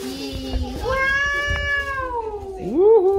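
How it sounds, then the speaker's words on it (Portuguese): A kitten meows in a home, several drawn-out rising and falling cries close by, with a brief background voice. "Uhul, um gatinho, miau."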